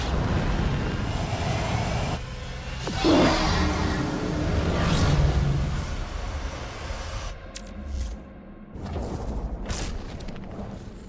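Spacecraft thrusters fire up in a video game with a broad roaring rush and swelling whooshes over a low rumble, then cut to a quieter hum with a few sharp bursts.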